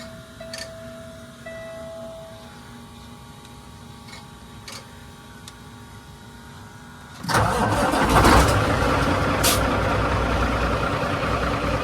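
After several seconds of quiet ticking and faint clicks, a truck engine with an open turbo and no exhaust gasket cranks and catches, bursting into a loud, raspy, unmuffled idle.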